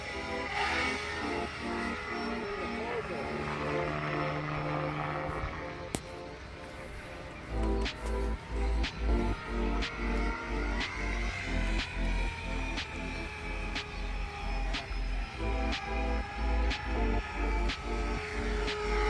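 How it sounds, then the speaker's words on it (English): A three-bladed gear-drive RC helicopter flies at a model airfield in Yokine, Perth, giving a steady, smooth rotor and motor drone with a pulsing low beat that holds throughout at moderate distance, with a single sharp click midway. "That's the three-bladed heli."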